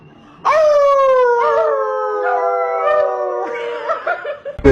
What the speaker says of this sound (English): Excuse me, dog.